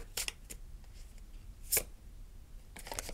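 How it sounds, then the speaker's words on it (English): Tarot cards shuffled by hand close up, heard as a few quiet, crisp riffles and flicks spaced irregularly against a soft, still background with no talking. "Let's keep shuffling."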